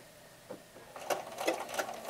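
A sewing machine runs a zigzag stitch of about length 2 across a reusable cloth un-paper towel, its motor whirring softly as the needle chatters in quick repeated pulses that build from faint to a little louder.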